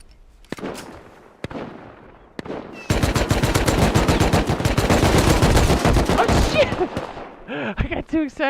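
Gunfire in the survival game Rust, a few isolated shots followed by a long rapid automatic burst, loud and close, with a voice talking near the end.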